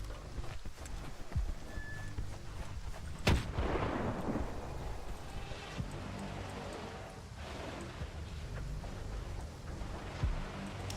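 Gunfire in the video game STALKER 2, a loud close shot with a long booming tail, then scattered fainter shots and footsteps over an outdoor ambience.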